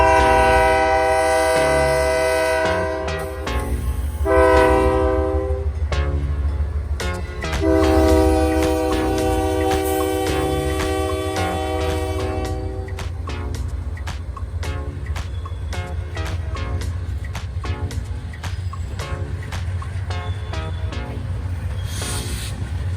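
A loaded southbound taconite freight train on the CN Iron Range passes close and loud behind a pair of Dash 8 locomotives, sounding a long sustained multi-chime horn, with a steady rumble, wheel clatter and clicking rail joints throughout.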